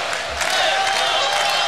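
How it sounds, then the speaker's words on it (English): Volleyball crowd in an arena urging on the home Hawaii Warriors men's team against USC, a dense steady roar of cheering voices filling the hall with no pauses. "The crowd trying to urge the home team on."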